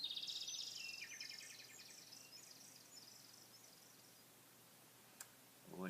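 A person imitates a bird call with a series of high, faint chirping whistles that slide and warble over the first few seconds, then trail off into quiet room noise.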